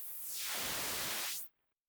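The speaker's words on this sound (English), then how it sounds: "Or to the right we have just plain old white noise." Plain white noise from a Noise Plethora synth module in VCV Rack 2: a loud, steady, full-band hiss that holds evenly for about a second and a half, then cuts off abruptly into silence.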